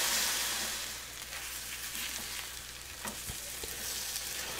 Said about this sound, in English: So fried them up, and there you can see some of the maple syrup coming out of it, sticking to the pan.